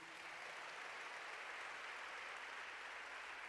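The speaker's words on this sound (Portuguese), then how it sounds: "Give it to Jesus a big round of applause." A church congregation at a revival conference claps in sustained, even applause, faint and distant-sounding, with no break from start to end.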